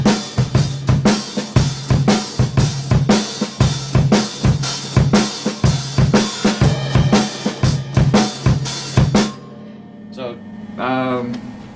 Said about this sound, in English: Shuffle has that sort of a shuffle feel, like this.